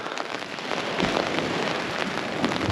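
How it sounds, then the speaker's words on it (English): Rain falling on a beach at Southbourne on the Jurassic Coast during night fishing, a dense steady hiss of drops with scattered louder spatters, close and continuous without speech. "Well, the rain's here now."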